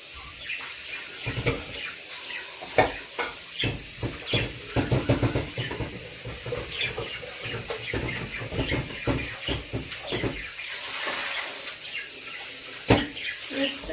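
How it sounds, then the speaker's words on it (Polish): Tap water runs and splashes in a baking dish used for a pumpkin tart as it is rinsed, with irregular gushes and sloshes, close and fairly quiet, under occasional talk. "Wystarczy wylać wodę, przepłukać"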